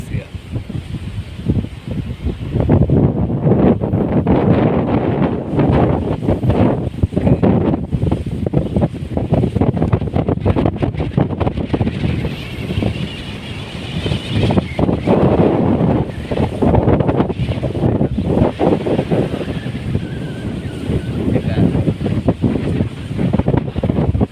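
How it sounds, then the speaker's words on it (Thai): Strong outdoor wind buffets the microphone in a steady, loud rush with gusting surges throughout, and someone speaks intermittently over it. "ยังลมอ่ะฟังเสียงลมไปโลด"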